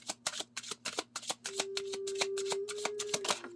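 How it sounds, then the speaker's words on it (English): Tarot cards are riffled and shuffled in quick, rhythmic bursts, close up, with a steady faint hum underneath. "No, I shuffled for a while there"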